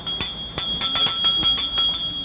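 A small bell rings in quick, irregular jangling strikes, bright and close, about a dozen hits over two seconds with no voices.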